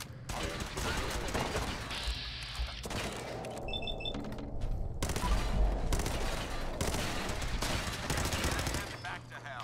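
Laser guns fire rapidly in a Fallout 4 firefight, a dense and continuous barrage of shots with mechanical clatter and electronic tones mixed throughout, loud and sustained across the scene.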